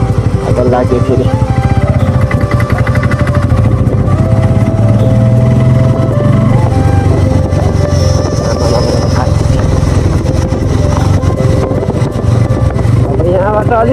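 A borrowed motorcycle rides along a road, its engine a loud, continuous drone that rises and falls in pitch, with wind rush over the microphone and a voice talking over it.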